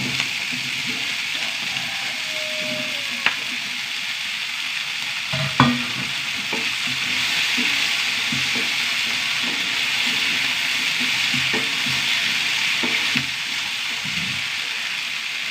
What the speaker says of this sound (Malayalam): ഉള്ളിയൊക്കെ വഴണ്ട് വന്നു